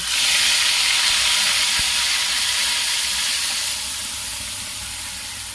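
Loud, steady sizzling of spice paste frying in a hot pan for a potato and pea curry, a bright hiss that slowly eases off toward the end.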